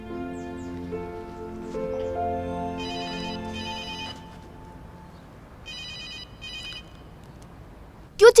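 A telephone rings on an outgoing call, two bursts of repeated electronic trilling separated by a pause, fairly clear over a quiet room, ending with a sudden sharp sound.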